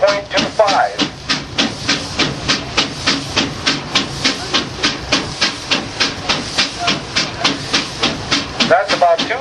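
A steam tractor engine working at full throttle against a dynamometer at Rollag, Minnesota chuffs in a fast, even exhaust beat with loud bursts of steam hiss, close and unbroken, while a voice speaks briefly over it.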